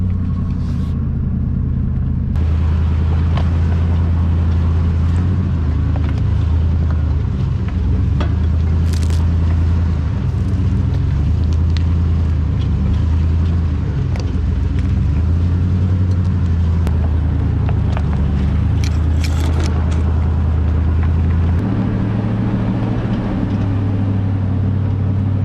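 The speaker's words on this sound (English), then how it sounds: "I'm driving slower up this hill than I was before" Off-road vehicle climbing a hill slowly in Gunnison Gorge, a steady loud low engine rumble with crunching and scraping over rough ground throughout, close and continuous with no talk.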